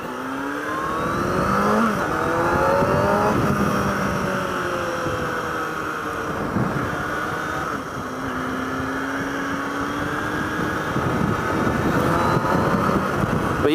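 A motorcycle is ridden along narrow trail paths, its engine revving and easing off repeatedly as it winds through. The pitch swoops up and down at moderate loudness throughout.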